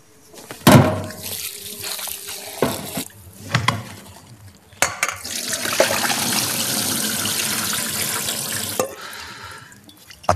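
Broccoli florets are rinsed under a running kitchen tap. The flow starts and stops with splashy bursts and a few sharp clunks, then settles into one longer steady stream close by.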